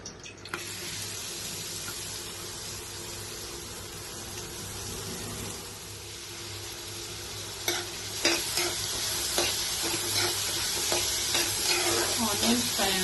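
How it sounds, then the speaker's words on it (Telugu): Three large chopped onions fry in a pan with a steady sizzle, and a utensil scrapes and stirs them in sharper strokes that grow busier toward the end. "ఆనియన్స్ ఫ్రై అవ్వాలండి"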